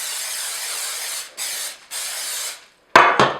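Non-stick cooking spray is sprayed into cake pans: three sustained aerosol hisses, close and steady, followed by a couple of short sharp clicks or clatters.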